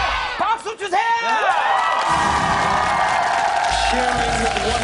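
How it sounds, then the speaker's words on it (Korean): An audience at a live animation-themed show cheers and whoops loudly in bursts of excited voices, then settles into a sustained crowd roar as music begins underneath. "박수 주세요!"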